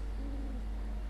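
A bird in the video game Alan Wake gives a single brief hooting call, faint against a steady low background hum of game ambience.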